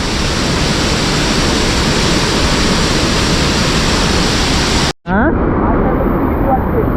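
Heavy rain pours over a Konkan village as a dense, loud, steady hiss that fills the scene, with a brief sharp cut in the sound just before the end.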